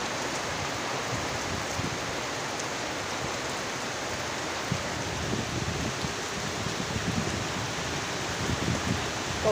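Steady rain falls outside a house, a dense, even hiss of drops on surfaces that holds for the whole stretch with no voices.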